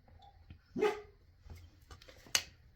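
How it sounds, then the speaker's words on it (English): A neighbor's dogs bark at a distance, a short burst near the middle and a sharper yelp toward the end, fairly faint against a quiet indoor room. "It's my neighbor's dogs are barking, which has got him barking."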